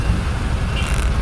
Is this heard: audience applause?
no